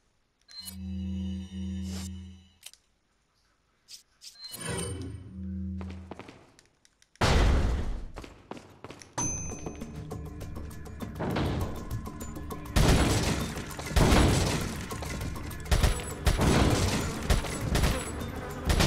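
Gunshots ring out at the shooting range in Resident Evil 4, with sharp, loud, irregular cracks following a stretch of tonal game jingles and clicks.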